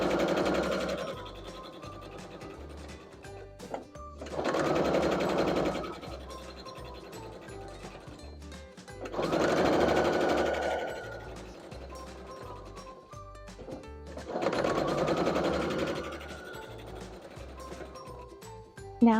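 Sewing machine stitching half-square-triangle quilt block pieces together in four separate bursts of steady, close mechanical whirring, with quiet pauses between runs.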